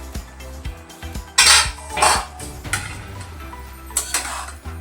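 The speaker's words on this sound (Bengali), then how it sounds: "এবারে ঢাকাটা খুলে দেব।" A metal lid comes off a cooking pot of boiling green chillies, garlic and ginger for a spicy sauce, giving a few sharp clanks and scrapes amid light kitchen clatter, close and clear with no talking.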